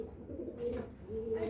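Pigeons coo softly at a distance in low, rolling phrases, two drawn-out swells separated by a brief pause, quiet against a faint room hiss.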